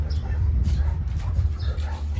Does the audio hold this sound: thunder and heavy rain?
no